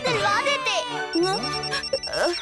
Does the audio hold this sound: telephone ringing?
yes